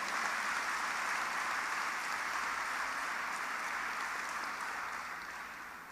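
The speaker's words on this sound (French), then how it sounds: "On applaudit encore, pourquoi pas?" A church congregation applauds during a Saturday Mass homily in a French-speaking parish, a steady wash of clapping from many hands that holds for several seconds and then begins to fade toward the end.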